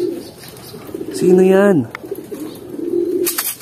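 Pigeons kept in a loft give a single clear, rolling coo at close range, with quieter coos following and someone speaking over the birds.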